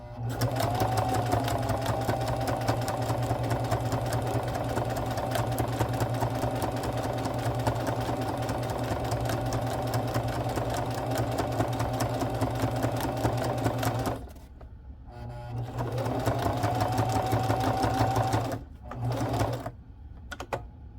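A sewing machine runs steadily and close up while stitching the stretchy fabric ends of a handmade clutch, humming without pause, halting briefly near the end, then whirring again in a short final burst.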